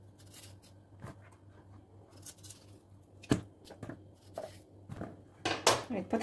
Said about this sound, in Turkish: Şimdi öncelikle patatesleri büyük büyük doğruyorum ki dağılmasınlar.